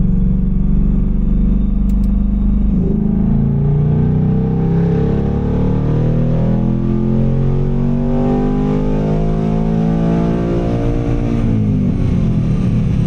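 A Ford Mustang GT on a chassis dyno starts and settles into a deep rumbling idle, then climbs in a long rising rev, loud and close, with no talk.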